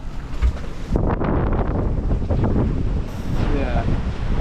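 Strong wind buffets the microphone at sea aboard a sailing boat with a loud, continuous roar, gusting heavily, with a faint wash of water underneath.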